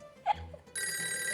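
An indoor telephone starts ringing partway through, a bright steady electronic ring that holds to the end, preceded by a brief voice-like yelp and quiet room noise.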